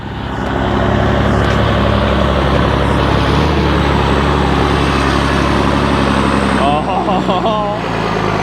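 A heavy tractor engine runs loud and close on a farm with a steady low rumble and constant drone, lasting throughout without a break.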